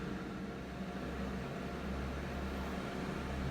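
A Gaabor air fryer hums and whirs steadily in a kitchen, its fan noise constant and fairly faint throughout, with no other sounds.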